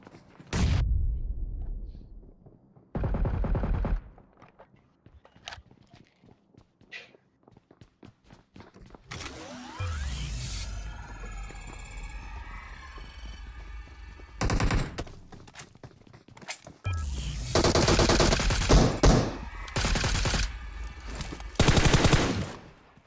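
Gunfire in the PUBG Mobile battle royale game, with sharp bursts and single shots from an MK14 rifle and other weapons, separated by quieter moments of footsteps and movement.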